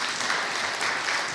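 Dense applause from a church congregation clapping for a child, steady and continuous throughout, fairly loud and close, with no voices rising above the clapping.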